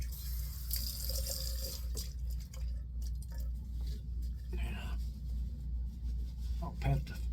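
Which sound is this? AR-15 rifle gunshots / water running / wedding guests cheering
water running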